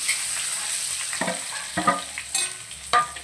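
Boiled taro root frying in oil with tempered mustard seeds, a continuous close sizzle broken by a few scraping stirs of the spoon against the pan.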